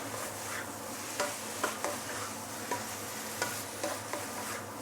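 Steady frying sizzle as noodles with roast pork are stir-fried in a pan, punctuated by soft periodic scrapes of the utensil roughly every half second, close and even.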